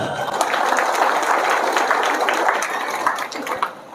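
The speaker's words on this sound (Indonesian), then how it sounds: "Tepuk tangan dulu." An indoor audience claps in a dense, steady burst of applause that fades slightly near the end, with no clear voices over it.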